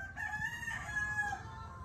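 Roosters crowing in rural Candelaria, Quezon, a clear cock-a-doodle-doo call of moderate loudness with faint background noise and a brief second crow overlapping near the end, no talk.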